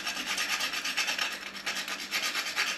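Whole nutmeg scraped on a hand grater gives rapid, repeated rasping strokes in a steady back-and-forth rhythm, loud and close with no voices.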